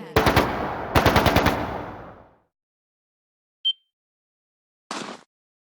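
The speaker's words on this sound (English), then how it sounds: "That sounded like gunfire." Two rapid bursts of automatic gunfire in a Trails of Cold Steel II video game cutscene, loud and rattling with a decaying echo, then silence broken by a short ping and a brief clatter.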